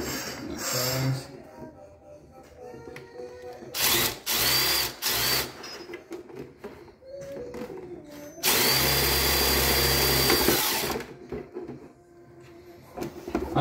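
A power drill bores a hole while fitting a cage onto a kaiju build, whirring in short bursts and then one longer sustained run, loud and close with quiet handling noises between.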